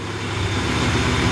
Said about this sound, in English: It's idling a little bit low